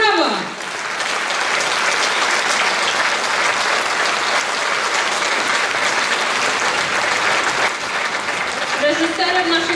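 An audience at a Lemko culture gathering in Gorzów Wielkopolski claps loudly and steadily for several seconds, a dense sustained round of applause, with a voice speaking briefly at the edges.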